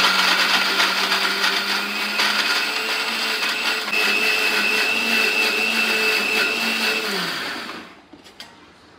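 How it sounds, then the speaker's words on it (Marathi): A kitchen mixer grinder whirs steadily as it grinds green chutney, a loud sustained motor drone that runs for about seven seconds, then winds down and stops, leaving a few faint clicks. "आणि आता हे वाटून घेते, मिक्सरला लावून घेते"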